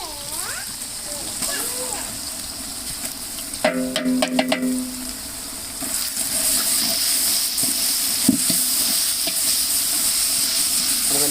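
Masala with mint and coriander sautéing in a pan for chicken biryani gives a steady hiss and sizzle, with a burst of clattering stirring in the middle and a few brief knocks.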